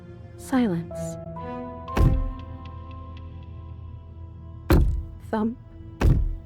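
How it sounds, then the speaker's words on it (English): Thumps in the game Slay The Princess: several heavy, isolated knocks at irregular intervals over a sustained musical drone, with short vocal sounds between them. "Thump, thump, thump."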